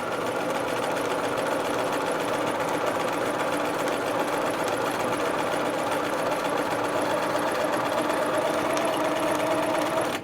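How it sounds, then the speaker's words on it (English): Domestic sewing machine stitching and gathering fabric, a steady close rapid mechanical chatter running without a break for the whole stretch, alone with no voices. "Just remove the pins as you get to them and keep sewing."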